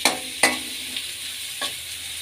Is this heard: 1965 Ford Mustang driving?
no